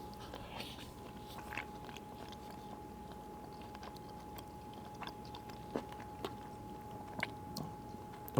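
Close chewing of bacon from a prepared Factor meal, a soft steady mastication with small crunchy bites every second or so, quiet and intimate, without any speech.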